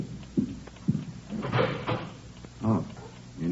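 A door opened in a home, likely the front door to a neighbour, with a couple of soft knocks or clunks, then a short creak and handling. Faint voices murmur underneath.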